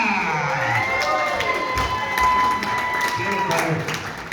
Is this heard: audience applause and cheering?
yes